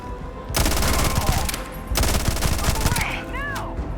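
Rapid automatic fire from a heavily modified, high-fire-rate AK rifle in the space game Starfield, two long sustained bursts of loud, dense gunfire with brief gap between, then a few electronic whooshing effects at the end.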